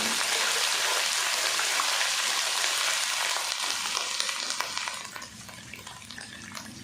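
Ginger-garlic paste hisses in a pan of onions and whole spices for Punjabi chicken pulao, a steady crackling sizzle heard close and alone that eases to a lighter spatter near the end.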